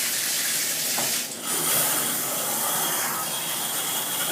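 Low-pressure spa shower head turned on, releasing a soft, steady hiss of spraying water heard close by after a brief click, with no talking.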